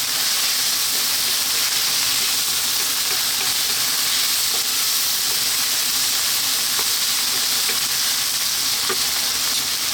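Ripe, juicy tomato dropped into a hot pan for salmon curry, frying with a steady, loud bright sizzle and crackle throughout, small pops scattered over the continuous hiss.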